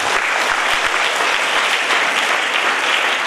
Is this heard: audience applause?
yes